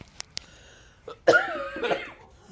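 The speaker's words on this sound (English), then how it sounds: "cough attack" A person coughs in a short burst, two sharp little hacks followed by a longer rough throat-clearing cough, close and fairly loud.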